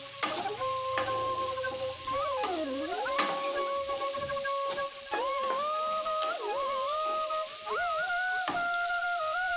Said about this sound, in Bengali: ওদিকে পেঁয়াজ ক্যাপসিকাম রসুন সব ভাজা ভাজা হয়ে গেছে